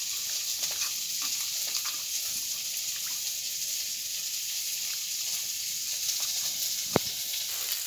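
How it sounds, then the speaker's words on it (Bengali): Dried fish fries in a small amount of oil in a village kitchen with a steady, even hiss and sizzle and one sharp crackle near the end. No one speaks. "এদিকে দেখো আমি তেল আর শুটকি দিয়ে দিলাম, তেল কম করে দিলাম"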